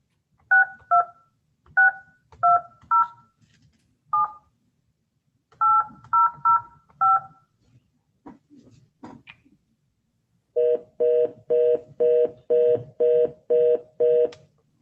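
Touch-tone telephone keypad being dialed, a run of clear two-tone beeps in irregular clusters, then a busy signal pulsing in steady, evenly spaced bursts, all close and alone with no talk.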